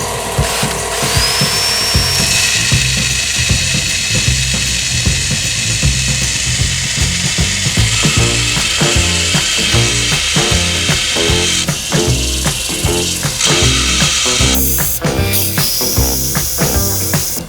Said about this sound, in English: I just ground it down to sort of, oh, looks like one piece.